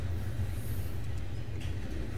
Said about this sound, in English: we'll be meeting another northbound train coming right at him, going into the siding.